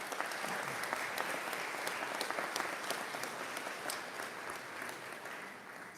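A crowd at a fire station grand opening applauds steadily for a woman in the front row, a dense, even wash of clapping that holds for several seconds before slowly thinning.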